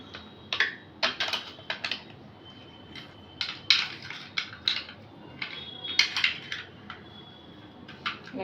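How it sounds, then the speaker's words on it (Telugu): Ice cubes being stirred into a kulfi mixture with a spoon give irregular, fairly quiet clinks and rattles in short clusters, with no voices. "ఐస్ క్యూబ్స్ వేసుకొని వీటిని కలిపేసుకోవాలి."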